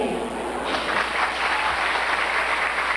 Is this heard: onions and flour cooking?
no